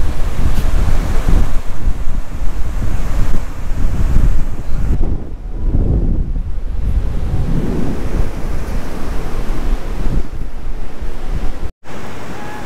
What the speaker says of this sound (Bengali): আমরা কোন সমুদ্রে চলে এসেছি আবার।